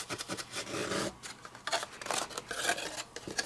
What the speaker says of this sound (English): I always like to give a good burnish if I can.